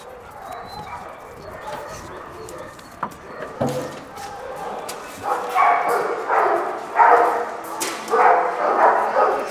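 Many dogs barking at an animal shelter housing around a hundred dogs, an echoing chorus of overlapping barks and yips that starts sparse and grows louder and busier, with faint chirps in the background.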